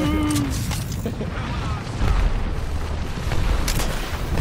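Grenades burst in the Apex Legends video game in a series of booming blasts over continuous low rumble and gunfire, with a couple of heavier hits toward the end.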